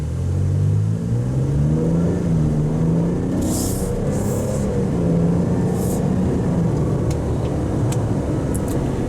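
A 2024 Buick Enclave Avenir accelerates in sport mode, heard from inside as a steady rising engine drone with road and wind noise, plus a few faint clicks and rustles.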